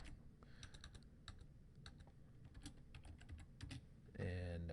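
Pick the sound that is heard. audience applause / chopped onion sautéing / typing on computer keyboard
typing on computer keyboard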